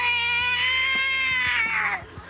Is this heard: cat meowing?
yes